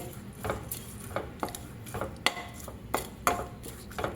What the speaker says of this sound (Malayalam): ശേഷം അടുപ്പ് കത്തിച്ച് ഒരു 2 മിനിറ്റ് ഇളക്കി കൊടുക്കാം